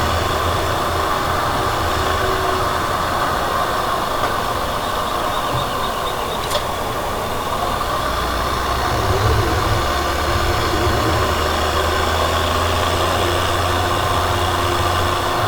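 A John Deere 3020 tractor engine idles steadily and loudly at close range, a constant low rumble with little change throughout and no talking.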